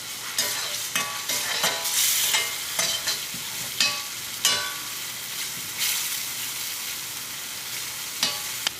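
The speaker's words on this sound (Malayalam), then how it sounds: "തീ കുറച്ചിട്ടിട്ട് നമുക്ക് ഒരു 2-3 മിനിറ്റ് നേരം ഒന്ന് ഇളക്കി കൊടുക്കാം" Ginger and tamarind stirred in a pan over low heat for a Kerala ginger curry: a constant close sizzle broken by repeated scraping strokes of a spoon, with no talking.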